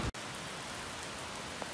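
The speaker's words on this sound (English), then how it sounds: "it's pouring down rain" Heavy rain pours down steadily on a shop in Shelby, a dense, constant hiss close by, broken only by a brief dropout at the start.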